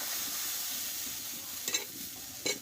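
Rice-flour pitha batter fries in a pan with a steady, even sizzle, broken near the end by two brief scraping or stirring bursts.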